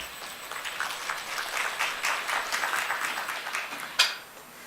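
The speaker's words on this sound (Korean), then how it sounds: "큰 박수 부탁드리겠습니다." Moderate, fairly distant audience applause greets the Busan education superintendent at an admissions information session for high school seniors and parents, swelling briefly then ending with a louder clap or knock near the close.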